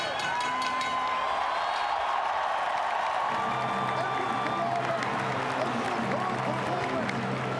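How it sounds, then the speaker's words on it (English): A loud crowd at an MMA fight cheers and roars in celebration of a victory, with sustained applause and whoops filling the arena throughout. "This crowd sets a victory for Eduard Folayang. They're going to raise the roof"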